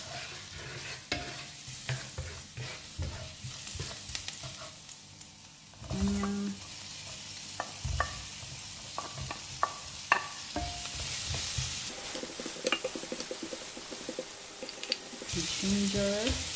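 Garlic fries in about a tablespoon of oil in a pan, with a steady close sizzle broken by stirring scrapes and clicks of a utensil, and no talking.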